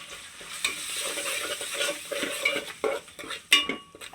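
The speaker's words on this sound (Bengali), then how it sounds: "এখন সবগুলো মশলা একসাথে মিশিয়ে নিব" Ground spices, garlic paste, salt and garam masala being stirred and fried together in a pan for homemade biryani, with steady sizzling and frequent scraping clinks of a spoon against the pot, close and continuous without talk.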